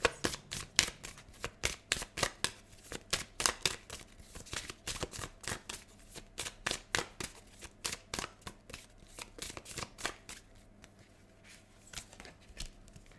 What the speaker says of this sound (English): Just going to shuffle a few times and then we'll pull the cards.